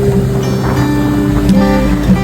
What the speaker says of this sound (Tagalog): medyo malakas ang hampas ng alon dahil medyo masama ang panahon